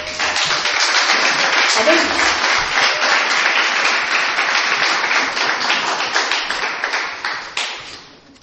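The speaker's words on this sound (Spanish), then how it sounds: "Démosles un aplauso a Jesús." Church congregation claps together in a bright, steady round of applause lasting several seconds before tapering off, with a voice briefly calling out during it.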